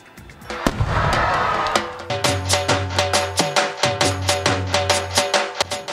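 A sharp bang and crackle, then a rapid string of loud popping bursts from firecrackers going off nearby at a Diwali celebration in Pakistan, no voices.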